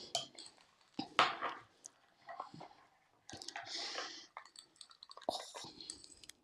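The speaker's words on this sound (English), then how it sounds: "Before then really getting in there and whisking." Homemade lotion mixture being whisked in a bowl, with irregular bursts of scraping and clicking from the whisk against the bowl, some louder strokes and short pauses between them.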